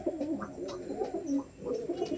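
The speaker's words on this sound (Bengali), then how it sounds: "এই পায়রা আছে।" Pigeons coo in low, rolling throaty phrases that repeat steadily and fairly close, with no talk over them.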